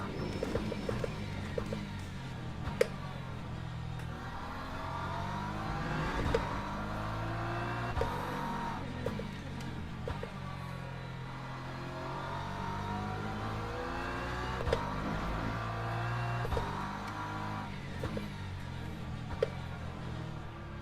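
A hypercar racing in Le Mans Ultimate, with engine note rising and falling as cars pass on track, a continuous revving drone with occasional sweeping pass-bys under the steady hum of the player's own car.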